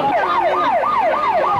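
Loud ambulance siren at a disaster scene where victims are loaded into ambulances, a rapid rising and falling wail repeating about every quarter second, close and continuous.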